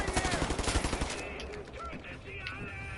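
Dense, rapid gunfire from the first-person shooter Wolfenstein: The New Order on PS4, loud bursts packed into the first second and then thinning into scattered shots under busy game noise.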